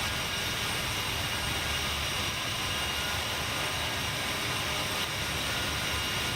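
Aerosoft CRJ regional jet climbing after takeoff in a flight simulator, a steady, loud, broadband engine roar holding level throughout with no breaks.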